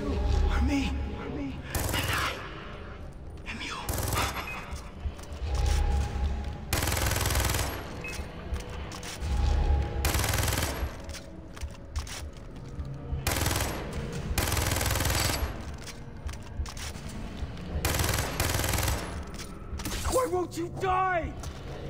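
Automatic gunfire rattles in Far Cry 3 in repeated loud bursts, several seconds each, separated by short gaps filled with battle clatter, with shouting voices heard under the shooting.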